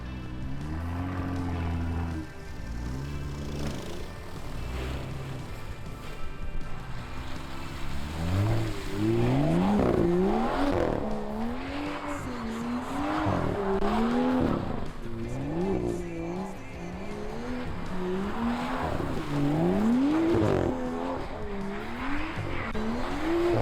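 Blue BMW M2 driving, its engine rising and falling through repeated revving gear pulls, fairly close and steady, with no talk over it.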